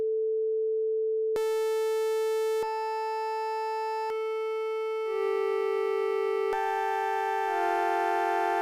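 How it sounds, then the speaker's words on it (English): An additive synthesizer holds a steady pure sine tone, then shifts through brighter tones with added harmonics, each change marked by a sharp click, clean and electronic with no other sounds. "The user begins with a simple sine wave"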